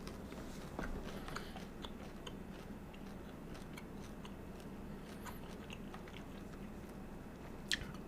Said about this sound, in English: Take another bite of my pizza.